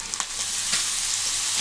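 Schezwan egg fried rice stir-fried in a hot pan, a close, continuous sizzle with a few scraping stirs near the start.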